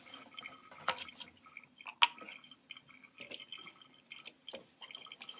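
Used darkroom film-developing chemical, stop bath, poured back into its container through a funnel: quiet drips and splashes in irregular bursts, close and faint, with a couple of sharper glassy trickles.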